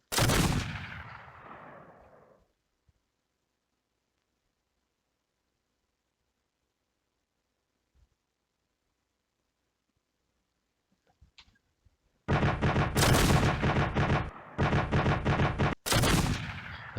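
Gunfire in the Command Modern Air/Naval Operations video game: a loud burst fades out, a long near-silent stretch follows, then several heavy, rapid automatic bursts crackle one after another with short breaks between them.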